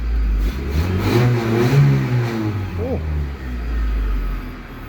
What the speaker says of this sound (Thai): น้ำมันมันจะเร่งดีกว่าแก๊สนะครับนี่